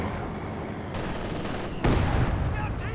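Heavy mortar fire pounds away in a strategy video game amid constant battle noise, dense and rattling, with a heavier blast landing partway through.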